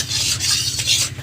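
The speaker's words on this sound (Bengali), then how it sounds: "খুব ভালো করে আমি সুজিটাকে ভেজে নেব।" Semolina dry-roasting in a pan while being stirred, a close, rough scraping rasp sweeping back and forth in a steady rhythm with a faint sizzle beneath, no voices.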